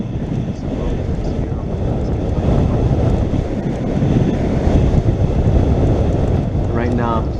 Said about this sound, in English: So here I am, riding down this road.